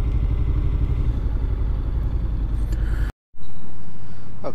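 A motorcycle ridden through London near the Ace Cafe rumbles steadily and close, then cuts out abruptly as it parks, leaving a brief silence before different background noise.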